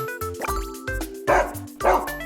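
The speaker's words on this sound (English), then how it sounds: "Hey, there's a dog." A dog in a video game barks in a few short, sharp yaps over bright game music and dripping effects, while a voice talks over the gameplay.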